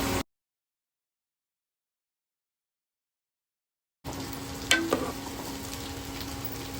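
After a silent gap, tamarind water is added to a pot of curry, which simmers with a steady bubbling sizzle, close by. A brief splash or clink sounds early on. No voices.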